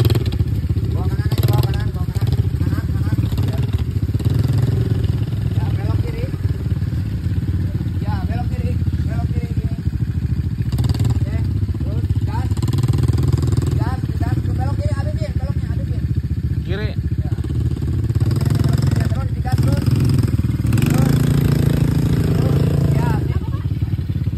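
A beginner rides an ATV at Pine Park in Lembang, its mid-pitched engine droning and revving steadily throughout, close and loud, with people talking and calling out over it.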